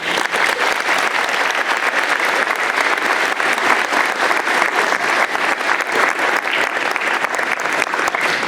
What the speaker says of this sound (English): let's have a round of applause for Louis